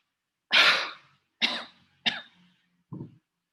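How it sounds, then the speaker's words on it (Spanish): A patient coughs four times in a row, three sharp, breathy coughs followed by a softer, shorter fourth, close up and quiet with no talk. "eso es presencia de tos"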